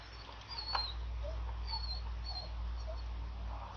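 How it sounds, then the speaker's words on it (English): A dog whines in a few faint, high, thin whimpers near a workbench during a thermostat job on a V6 Pontiac Grand Am, over a steady low hum with no talking. "Forgive my dog whining."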